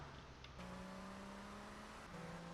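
A motorcycle engine in GTA Vice City with the Mamaia Vice mod drones steadily and close. Its pitch steps up twice as the throttle changes, with no voices over it.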